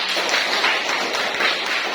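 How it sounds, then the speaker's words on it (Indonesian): Students in a classroom clap together in a short, continuous burst, a dense and fairly loud wash of hands with no pause. "Tepuk tangan untuk kalian semua."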